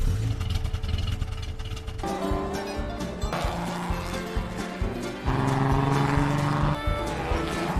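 Doc's modified race car from the animated film Cars drives amid a dense, continuous mix of engine roar and layered score, steady and fairly loud with abrupt shifts in texture throughout.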